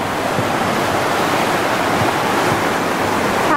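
A waterfall roars steadily on a Utah outing, a dense, continuous rush of falling water filling the whole scene with broad, loud white noise and no voices.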